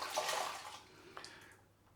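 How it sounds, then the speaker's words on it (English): Water splashes and trickles as a damp microfiber cloth is rinsed at a basin during a wet shave, a brief run of close splashing that tapers off into quiet drips. "Let me just rinse off the"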